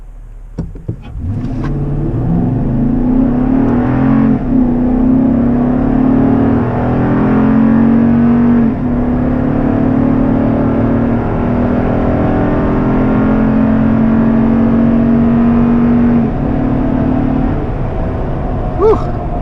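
A four-wheel-drive vehicle locked into 4WD and accelerating hard through a timed run on stock-weight versus different wheels, its engine a loud, steady, rising drone close by that holds for the whole stretch after a brief start.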